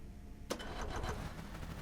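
An engine in the video game Stormworks kicks into life with throttle applied, a sudden start followed by a steady mid-pitched running drone.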